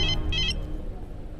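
Mobile phone ringtone playing a bright electronic melody in two short bursts, loud and close, over a low background rumble before it cuts off.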